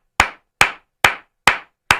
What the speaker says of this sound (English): I got to give a proper golf clap